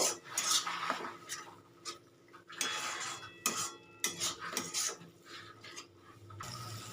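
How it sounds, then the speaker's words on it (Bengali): A metal spatula scrapes and clinks against a pan as spice paste with poppy seed paste and a splash of water is stirred and cooked down, in irregular bursts of scraping with short pauses, no talking. "অল্প সামান্য জল দিয়ে আবারও ভালো করে কষাতে থাকবো"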